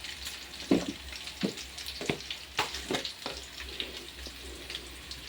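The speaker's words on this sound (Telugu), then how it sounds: "దీనిలోనే ఫ్రెష్గా దంచి పెట్టుకున్న అల్లం వెల్లుల్లి, అదంతా పచ్చివాసన అంతా పోయే వరకు అయితే ఫ్రై చేసుకోవాలి." Freshly pounded ginger and garlic frying in a pan for a fenugreek-leaf dish, with a soft sizzle and intermittent scraping stirs recurring every second or so, close and moderately quiet.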